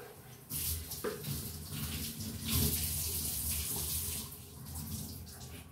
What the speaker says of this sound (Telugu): వేడి నీళ్ళతో సోప్ చేసేస్తాను బాగా, నీట్గా అయిపోతుంది.